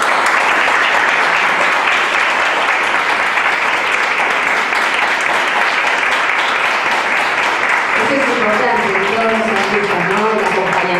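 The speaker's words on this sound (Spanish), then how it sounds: "a quien también le vamos a dar un fuerte aplauso y está entre nosotros" Sustained audience applause at a tribute event in Florencio Varela for Gianni Nasso, dense and steady clapping, with a voice speaking over it in the last few seconds.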